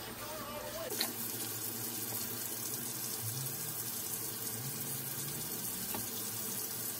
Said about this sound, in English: I'm just going to keep soaking my hair until it's fully drenched with water